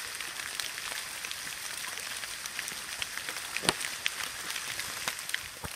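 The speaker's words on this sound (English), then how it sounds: "Here we are, enjoying the rain." Rain patters outdoors during a metal-detecting outing, a constant fine hiss of drops with scattered sharper taps on nearby surfaces, close and steady with no one speaking.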